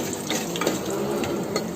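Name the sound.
stirring spices in a frying pan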